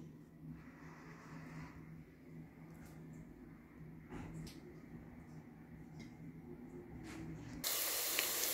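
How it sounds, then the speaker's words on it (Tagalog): Garlic and other ingredients sautéing in a pan for squash cooked in coconut milk, with a low, soft hiss that breaks into a loud, sudden sizzle near the end. "gigisa ko na ang ating mga ingredients"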